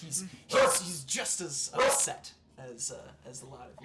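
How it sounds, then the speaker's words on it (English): A dog barks several times at a tabletop roleplaying session, loud bursts close by that are mixed in with ongoing talk from the players. "Oh, sorry for the dog."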